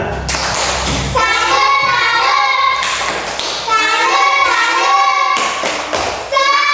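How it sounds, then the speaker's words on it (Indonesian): Fourth-grade primary school class performing a patterned 'tepuk salut' clapping routine for two classmates, loud rhythmic bursts of claps in sections alongside children chanting together. "Sekarang tepuk salut dulu untuk Cynthia dan juga Mela."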